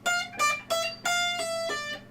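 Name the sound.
guitar shred lick with economy picking, hammer-ons and pull-offs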